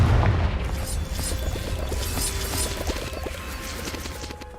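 A Confringo fire spell in the Hogwarts Legacy video game bursts with a heavy boom and crash, followed by sustained rumbling game effects and scattered tonal chimes; no voices.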